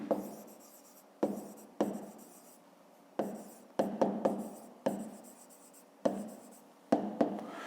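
Pen strokes writing out a fifth-grade math solution on paper, in short bursts of scratching with sharp starts, each fading as a line or figure is finished, close and fairly quiet.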